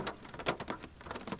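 Rain falling steadily outdoors, a soft, continuous patter with irregular drops splashing nearby, fairly faint, with no talking.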